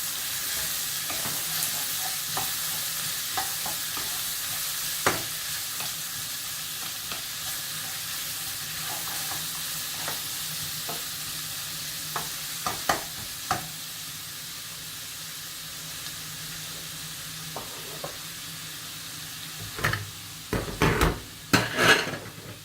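Sugar sautés with onions and garlic in a pan, a soft continuous sizzle broken by scattered clicks and scrapes of a utensil, with a cluster of louder knocks near the end; no voices.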